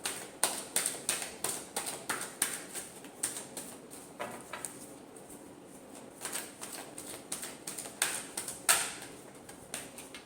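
A deck of tarot cards is shuffled by hand, giving repeated crisp riffles and taps in quick bursts, close and moderately loud with no talking.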